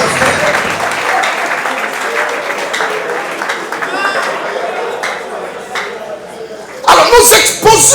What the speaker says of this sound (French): Est-ce qu'on peut acclamer pour les frères?